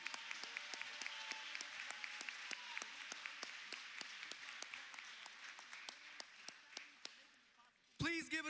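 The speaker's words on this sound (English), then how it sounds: "So please give a big round of applause for Center of Praise Ministries." An audience at a graduation ceremony breaks into sustained applause, with a dense wash of clapping and sharp individual claps running throughout, before a louder burst of sound at the end.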